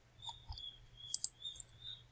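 Two crisp computer mouse clicks close together, near and soft, over a quiet background with a few faint ticks.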